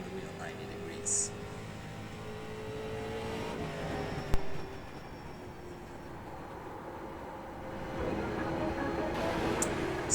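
A street stock race car in the iRacing video game drones along USA International Speedway, a steady engine note with shifting pitch, moderately loud and continuous, with a brief clunk midway.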